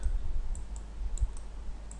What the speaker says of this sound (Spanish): hago clic en esta parte